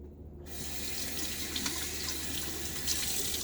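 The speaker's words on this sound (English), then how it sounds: "Another dip. Into the water because the brush looked like it needed a little bit more hydration." Water running from a bathroom sink tap while a shaving brush is dipped, a steady close rushing flow that starts abruptly and continues alone.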